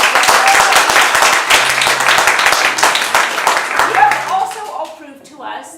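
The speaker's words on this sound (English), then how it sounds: "Can we give them another round of applause?" Audience applause at an improv theatre sports show, a dense burst of clapping and some cheering that holds for several seconds, then thins and fades out near the end.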